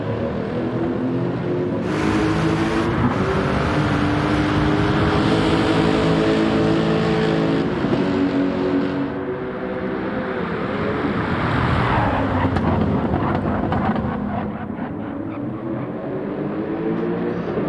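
GT3 race cars in a racing video game, engines roaring loudly and continuously as they rev up and shift gears, with the pitch rising and falling as the cars pass on track.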